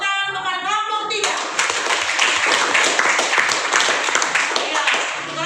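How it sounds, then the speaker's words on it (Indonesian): A classroom of students claps for a group that has just presented, with broadband applause starting after a second of a speaking voice and continuing steadily, fairly loud and close, to the end. "tepuk tangan kepada kelompok 3"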